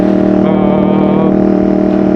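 Motorcycle fitted with an Akrapovič exhaust, ridden through the Wicklow Mountains in Ireland, drones loudly and steadily at close range, with a rich harmonic engine tone that barely changes throughout.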